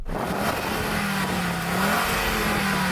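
An Audi S2 Coupe engine runs loud and close, revving with a steady, slowly rising drone and no voices over it.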